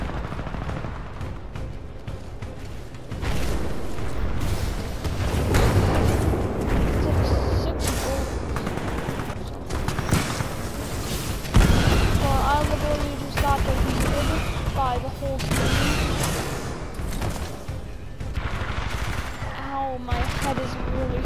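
Titanfall 2 gameplay carries dense, continuous gunfire and explosion booms with rapid weapon bursts throughout, loud and busy, while a player talks over the action at times.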